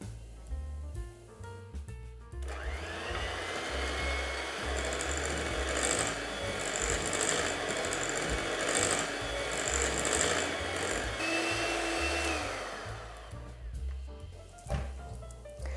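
An electric mixer beats eggs, added one at a time, into a butter and sugar batter for red velvet cake. The motor whirs steadily for about eleven seconds between quieter moments of handling at either end.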